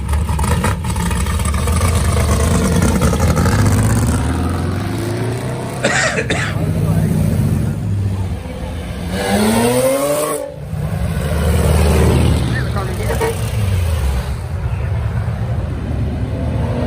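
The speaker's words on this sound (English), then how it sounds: "There goes the street legal race car." A modified street-legal race car on air ride revs its engine and pulls away, a loud throaty rumble with rising and falling rev sweeps under people talking nearby.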